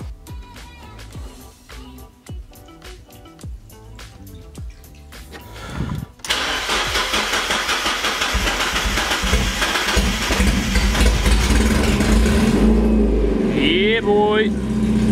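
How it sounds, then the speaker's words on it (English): A Mazda Miata NB with a new engine cranks and fires up, settling into a loud, steady idle close to the microphone after a clattering start. "First try, it immediately fires up."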